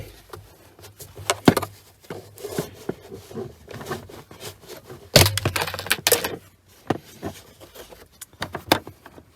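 Plastic interior trim panel pried off a Toyota MR2, a series of sharp cracks and snapping clips with rattling and rustling between, several loud pops close to the microphone.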